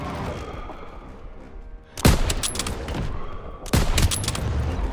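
Gunfire and explosions in a Call of Duty WW2 street battle: two sudden loud blasts, one near the middle and one toward the end, each followed by sustained crackling fire over a lower rumble of distant combat.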